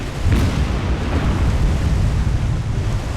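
A shell strikes a ship in a naval war video game, a loud rumbling explosion that swells and roars steadily for a few seconds with a windy, churning texture and no talking.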